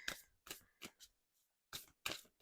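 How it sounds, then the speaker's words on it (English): A deck of 44 to 50 oracle cards is shuffled overhand in short bursts of riffling, crisp card-slapping rustles with brief pauses between, close and fairly quiet. "I can shuffle this stock no problem"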